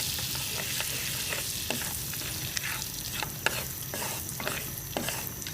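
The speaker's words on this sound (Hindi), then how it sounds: "अब इसके अंदर इलायची डालेंगे, इसको हल्का सा फ्राई करेंगे।" Cardamom fries lightly in hot fat in a pan for dum ki sewaiyan, a constant close sizzle with frequent brisk scraping stirs and small clicks, no voices present.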